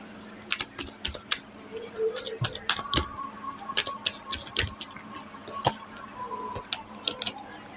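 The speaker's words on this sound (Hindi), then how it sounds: "लास्ट शफल करूँगी मैं।" Tarot cards are shuffled and handled close by, making a scatter of crisp, irregular clicks and soft snaps with faint talk in the background.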